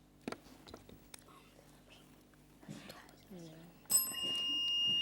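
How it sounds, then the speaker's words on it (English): A quiz show bell rings near the end to mark the close of a Jamaican junior schools quiz match, a bright sustained tone with ringing overtones following quiet studio murmurs and soft voices. "The bell signifies the end of the match"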